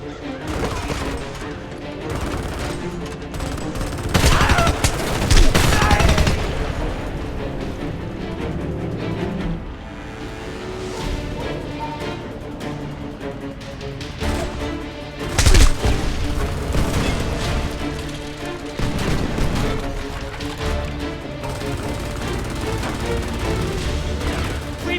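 Heavy gunfire and explosions in the Homefront video game: sustained automatic bursts with booming blasts that swell loudest around the middle and again near the end, with occasional shouted voices underneath.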